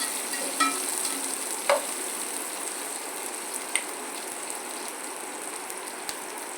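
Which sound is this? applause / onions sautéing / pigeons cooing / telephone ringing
onions sautéing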